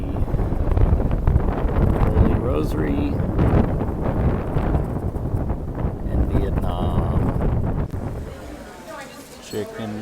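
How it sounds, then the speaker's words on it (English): Strong wind buffets the microphone in heavy, continuous gusts, with a voice speaking briefly beneath the rumble. "It is windy."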